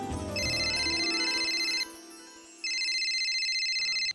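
A mobile phone ringtone plays loud and close, an electronic repeating melody that pauses briefly midway and then resumes before cutting off, with no one talking over it.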